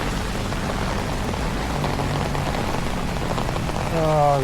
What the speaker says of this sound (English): Oh, no, we have more rain.